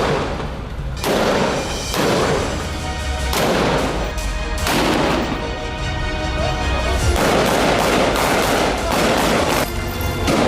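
Artillery bombardment in Gaza during Israeli military strikes: repeated heavy blasts and rumbling booms roll in at intervals over a continuous loud roar, sustained throughout with no gaps of quiet.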